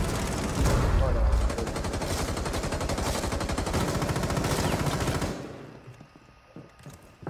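Rapid gunfire from a video game, with dense repeated shots at close range, loud and steady for about five seconds, then dropping off into quieter game sounds.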